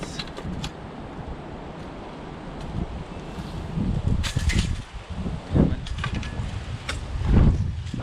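Steady outdoor wind buffets the microphone, with a low rumbling roar that swells and gusts louder in bursts toward the end.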